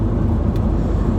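Car driving on a road from inside the cabin, a steady low rumbling engine and road noise, close and continuous for a brief moment, no talking.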